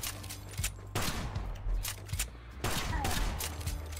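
Rapid gunfire in the video game Kill the Crows, a run of loud, sharp shots in quick irregular bursts with booming low impacts, heard up close and alone without talk.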